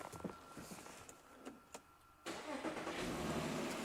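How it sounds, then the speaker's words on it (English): An Audi Q7 engine cranks and catches after a few quiet clicks and faint rustles, then settles into a steady idle close by. "Let me start the engine."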